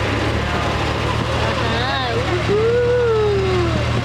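A tractor ride at a tulip festival, with a steady engine rumble and motion noise running throughout, while people talk and cheer over it.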